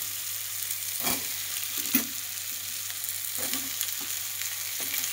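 Ridge gourd, bottle gourd and pointed gourd stir-fried in oil, a steady soft sizzle with periodic scraping stirs of a spatula, fairly quiet and close.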